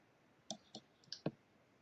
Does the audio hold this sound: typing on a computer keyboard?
yes